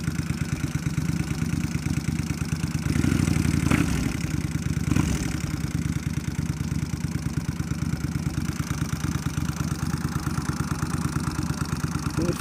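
A Kawasaki Vulcan 1500 motorcycle engine idles close by in a steady, lumpy throb, with a brief rise in revs partway through and no talking.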